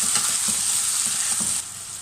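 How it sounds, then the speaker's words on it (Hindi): Potatoes fry in a pan for poha, making a loud, close hiss with a few soft stirring knocks. Near the end the sizzle drops a little in level. "तो पहले आलू को फ्राई करेंगे"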